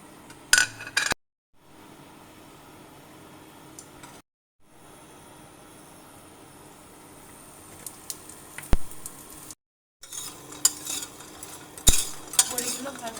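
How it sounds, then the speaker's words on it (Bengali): Dried lentil dumplings (bori) fry in oil in a pan with a soft, steady sizzle, broken by short gaps and occasional sharp clicks of a utensil stirring against the pan. "এবার বড়িগুলো ভেজে নেব।"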